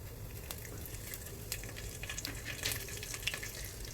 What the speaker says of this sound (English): You can see the crackling sound.